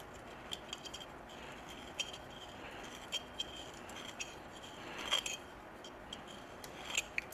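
A pipe cutter works around a pipe with quiet, close scraping and rasping, broken by small clicks and faint metallic ticks.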